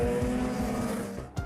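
Several motorcycles speed past on the Fernão Dias highway, a steady loud engine drone with repeated rising pass-by sweeps and a sharp final whoosh near the end.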